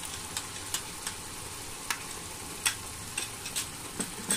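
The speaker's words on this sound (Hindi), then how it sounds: "तो ये अभी प्यूरी मैं डाल रही हूँ।" Tomato puree from four small tomatoes hits a hot pan for a dhaba-style egg curry, giving a steady soft sizzle and frying hiss with scattered faint ticks and spatters throughout.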